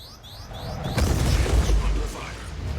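Size 5 torpedoes explode against a Redeemer ship in a space combat video game: a sudden deep boom breaks out, then a heavy low rumble rolls on for over a second before easing back into a steady background drone.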